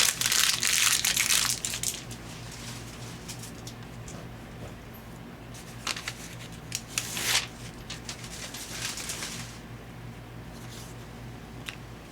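Scissors trimming around paper while making ATC cards, crisp snipping and paper crinkling bursts close to the microphone over a low steady hum, with clusters of cuts spread across the clip and no talking.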